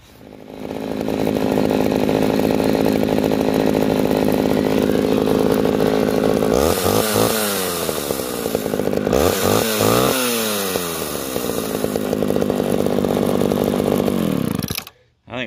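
An old roadside chainsaw, repainted several times, idles loudly and steadily, then revs up hard twice in quick surges before settling back; the engine runs close and continuous without any talking.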